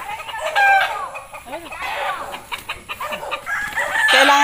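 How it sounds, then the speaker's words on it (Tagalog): A rooster crows on a backyard with other chickens, clucking and rising crow calls repeating through the clip, fairly close and loud with some background commotion. "Kailangan namin itali muna siguro yung tandang namin."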